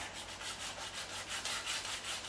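Curb rash on a 2019 Nissan Maxima SL wheel is sanded by hand with 80 grit sandpaper, steady back-and-forth rasping strokes in a quick even rhythm, close and alone.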